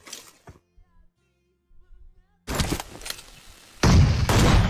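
Gunfire from the video game PUBG on the Miramar map, with an AWM sniper rifle involved: after a near-silent stretch, loud, close bursts of shots and booms crash in twice, broadband and heavy.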